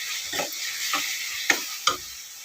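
Tomatoes and chili powder cooking in a pan, with a soft sizzle broken by four distinct spoon-stirring scrapes, the last two sharper, close up and without talk.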